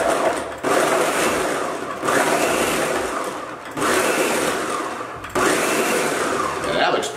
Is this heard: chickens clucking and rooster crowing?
no